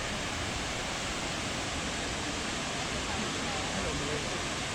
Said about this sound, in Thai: ได้ยินเสียงน้ำตกแล้วครับ ใกล้จะถึงน้ำตกทีลาซูแล้ว